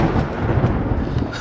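Low, rolling thunder rumbles steadily from an approaching storm, with a wash of rain noise beneath and no voices.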